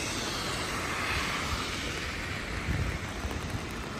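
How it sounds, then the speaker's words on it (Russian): Steady, dense hiss of heavy rain falling all day in Sochi at Gazprom Polyana in winter, a broad continuous wash of noise with no talk over it. "Сегодня дождь валит целый день"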